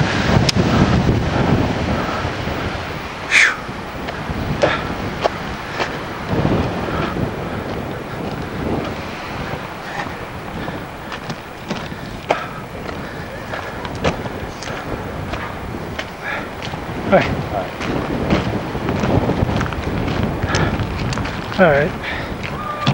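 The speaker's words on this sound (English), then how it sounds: "Man, it's windy up here." Strong wind buffets the microphone in continuous roaring gusts at the top of the Bright Angel Trail on the Grand Canyon rim, with a voice speaking at times beneath the rumble.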